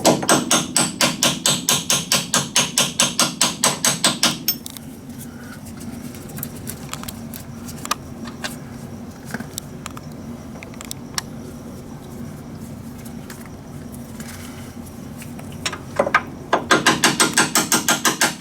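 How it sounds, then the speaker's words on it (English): Steel hammer blows ring out against an old bolt used as a drift to drive a suspension bolt from a DeLorean lower control arm, in rapid rhythmic bursts at the start and end with quiet clinks and shuffling between. "You can use an old bolt to help pound this bolt out."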